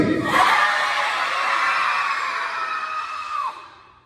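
A crowd of children yells loudly together on a count, a dense, bright burst of high voices that holds steady for a few seconds and then fades out.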